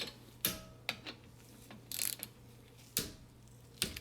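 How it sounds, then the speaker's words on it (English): A torque wrench tightens a front drive axle bolt on a Toyota Avalon, giving several sharp, close ratcheting clicks spaced unevenly apart, with brief metallic rattles and low background hum in between. "Now we're gonna torque this one."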